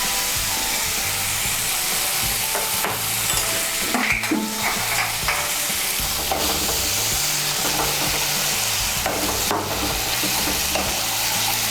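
Spice masala for a prawn curry sizzles and hisses loudly in a pan as a little water is added, with steady frying crackle and occasional stirring scrapes, close and continuous.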